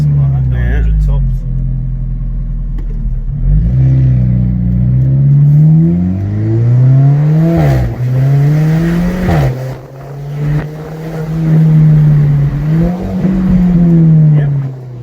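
A restored Fiat Coupe drives hard and accelerates, its engine note close and loud, rising and falling through several gear changes with a rumbling low drone, while people talk over it.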